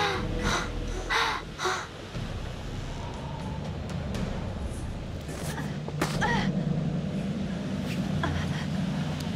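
Crows caw in the Until Dawn horror game, a few harsh calls near the start and more scattered later, set against a steady low ambient rumble and occasional thuds, without speech.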